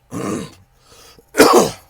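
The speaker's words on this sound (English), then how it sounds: "let me clear my throat here." Someone clears their throat up close with two harsh rasping bursts and a brief quieter rumble between them.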